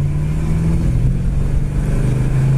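A 1967 Dodge Coronet engine pulls hard under acceleration, a loud, close, steady drone that rises slightly in pitch over a few seconds with no talking.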